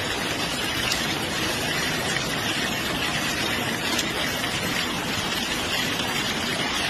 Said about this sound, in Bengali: দেখো প্রচুর বৃষ্টি হচ্ছে।